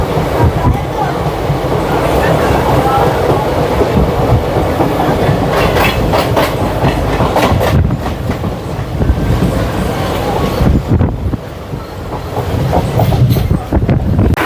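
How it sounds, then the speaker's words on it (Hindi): Nagaland Express rolling along the track while crossing the Kamrup Express, a loud continuous rumble with rhythmic clickety-clack of wheels and occasional squealing, close and sustained throughout. "कामरूप एक्सप्रेस को हम लोग क्रॉस कर रहे हैं, जो कि अगर आप देखोगे हावड़ा से डिब्रूगढ़ के बीच चलती है।"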